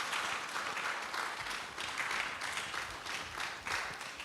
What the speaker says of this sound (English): With a round of applause, shall we invite our chair for the discussion?